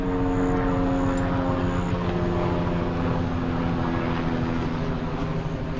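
Tour helicopter flying overhead above a leafy Tennessee forest trail in summertime, a loud, constant low engine and rotor hum filling the whole stretch without talk.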